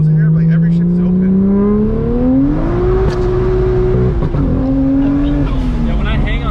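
A BMW 335i revs hard, the engine note climbing and holding before easing off, with sharp exhaust pops and bangs breaking through, loud and close, while voices talk over it.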